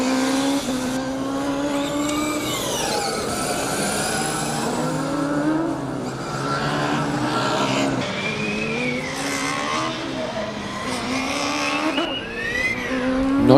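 Formula Student race cars lapping in an endurance race, combustion and electric entries, their engines whining and sweeping up and down in pitch continuously as they pass, with occasional tire squeal; loud and steady throughout.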